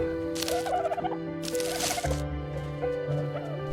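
Chickens cluck in a coop in the Ark video game, with several short bursts of clucking over a steady tonal game music bed and some shuffling noise, moderately loud and close.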